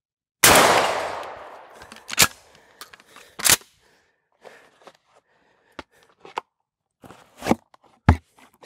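Mossberg 500 pump shotgun blasts at steel targets: one loud opening shot with a long ringing tail, then a handful of sharp reports spaced a second or so apart, mixed with lighter clanks of handling between them.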